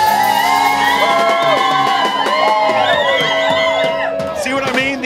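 Bar crowd at a live band show at Hurricanes Grill & Wings in Tallahassee, loud continuous cheering, whooping and shouting, dense and close, with overlapping voices and music underneath.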